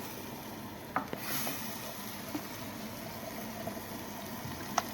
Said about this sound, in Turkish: soğan, biber, domates özleşene kadar onları da birlikte kavuruyoruz